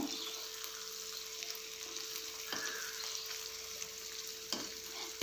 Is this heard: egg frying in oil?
yes